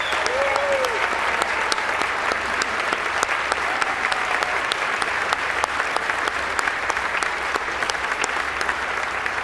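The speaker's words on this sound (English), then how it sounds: "give them a nice round of applause" A large audience at an Ellis Island Medals of Honor evening event applauds the medal recipients with sustained, even clapping throughout, a faint voice briefly audible at the start.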